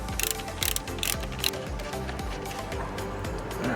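A ratchet fitted with a 1/2 inch socket clicks in quick repeated bursts while unbolting the alternator on a Corvette C6, rhythmic metallic ratcheting close up with gaps between strokes.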